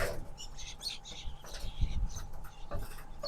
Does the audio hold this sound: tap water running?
no